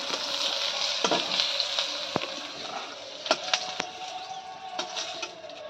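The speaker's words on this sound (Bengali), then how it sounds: "রাঁধুনি ফোড়ন দিয়ে দিচ্ছি" Radhuni seeds are tempered in hot oil for Bengali shukto, after bitter gourd and eggplant have been fried. A dense, steady frying hiss fills the clip, with brief crackles and faint utensil knocks, close and without talking.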